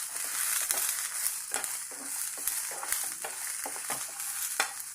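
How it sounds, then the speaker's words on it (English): Eight garlic cloves fry in oil in a pan while a utensil stirs them, giving a steady close sizzle broken by frequent short scraping clicks. "Fry slightly."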